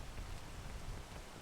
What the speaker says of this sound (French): Mais toi, t'attends pas la fin de la pluie